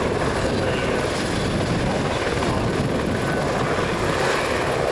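A helicopter's loud, continuous rotor and engine roar fills the air at an air show, steady and close with no pauses.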